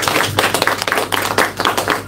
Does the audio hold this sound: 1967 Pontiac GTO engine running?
no